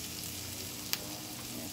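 Garlic and rice fry in a cooking pot, a dense, even sizzle lasting under two seconds with one brief faint clink near the middle, no voices.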